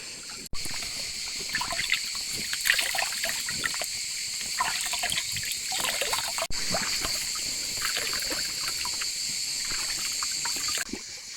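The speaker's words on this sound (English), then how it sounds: "this is one of the places where we collect some rainwater" Water trickles steadily at an outdoor rainwater collection spot, a continuous close bright splashing flow with a couple of sharp knocks and no talking.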